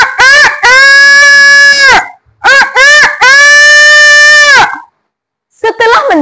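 A human voice imitates a rooster crowing, giving two long, drawn-out crows in close succession, with a shorter vocal burst at the end.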